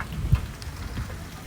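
Heavy rain from a strong thunderstorm in Ille-et-Vilaine drums steadily and close by, with a few louder splashes. No one speaks.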